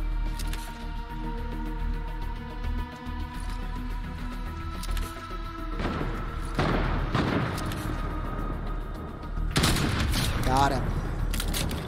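Gunfire in the video game Fortnite, a burst of shots and thumps near the middle and again toward the end over steady game background noise, with a voice talking over it.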